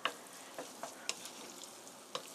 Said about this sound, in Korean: 살짝만 볶아주세요.